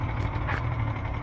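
Boat engine idling at a launch, a low steady rumble close by, brief and even with no talking.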